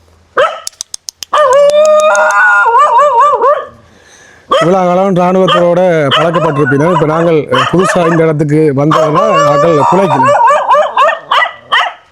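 Army dogs bark loudly and close by, with a rapid string of yips and then long stretches of continuous barking and whining, broken by one short pause.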